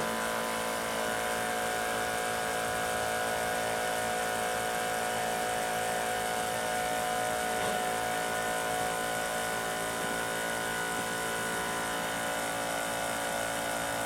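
A homemade pump for filling tractor tires with liquid ballast runs steadily, a constant mechanical hum and whine that holds at one level from start to finish with no talking.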